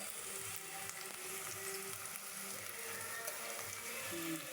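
Ginger garlic paste sizzling in hot oil for chicken biryani, a steady soft frying hiss with faint stirring and kitchen clatter, no voices.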